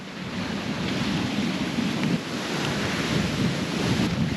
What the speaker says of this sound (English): Thunder rumbling in the distance as I walk along the coastline